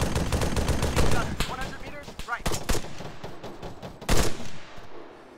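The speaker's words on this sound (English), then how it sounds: "Who's on that MG nailing those guys in the hill with me?" Machine gun bursts from an MG in ARMA 3 combat, loud rapid volleys and scattered shots firing near and far, with voices talking between and over the fire.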